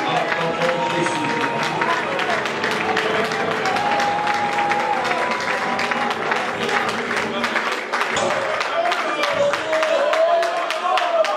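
A church congregation applauds and cheers together, a continuous dense roar of clapping and crowd voices, with sustained sung or shouted tones rising above it throughout.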